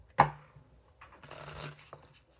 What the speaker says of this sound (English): One more shuffle to end the reading.